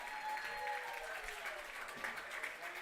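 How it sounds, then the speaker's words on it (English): Applause from a baseball crowd in a stadium before a Pioneers vs. Muckdogs game, as fans clap for a field crew member about to sing the national anthem; steady, fairly faint clapping with some voices and a tonal hum over it. "Let's give Brandon a round of applause for stepping up."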